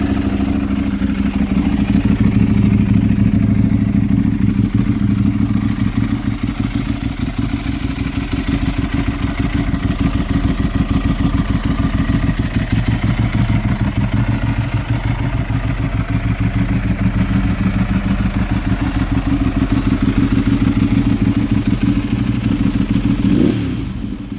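A Ducati 1098R superbike with a dry clutch runs steadily nearby, a loud, continuous low engine drone with a clattering mechanical texture and a slight rise in revs near the end.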